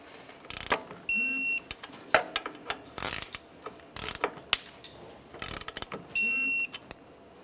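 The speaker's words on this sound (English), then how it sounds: "Now we can torque these to that 37 foot-pounds." A torque wrench tightens bolts on a 2015–2020 Cadillac Escalade during a front axle seal job, in repeated bursts of quick ratcheting clicks with sharp clacks and pauses between, close by and without talking.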